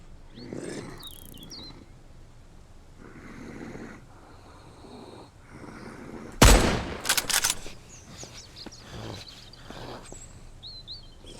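Infected creatures in the survival game Mist Survival give low, repeated grunts and growls at a moderate distance, with a loud sharp burst of gunfire-like noise in the middle. Ambient game sounds run underneath, and no one speaks.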